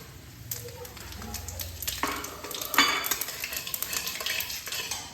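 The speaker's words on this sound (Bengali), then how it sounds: "গরম সর্ষের তেলে ফোড়নে দিয়ে দিচ্ছি শুকনো লঙ্কা, এলাচ, দারচিনি আর 1 চামচ সাদা জিরে" Dry red chillies, cardamom, cinnamon and cumin seeds crackle in hot mustard oil, with a spoon clattering against the pan and a burst of louder sizzling midway.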